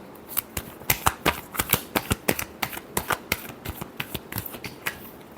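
Tarot cards being shuffled, a rapid series of crisp riffling snaps and flicks in an uneven rhythm, close and clear with no talking.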